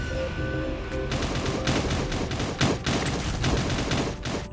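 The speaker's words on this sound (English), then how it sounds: "we do hear a bunch of gunshots going off" Dense bursts of rapid gunfire in the video game Cyber Hunter crackle continuously, loud and close, with overlapping shots and automatic fire layered over a game-like ambient background.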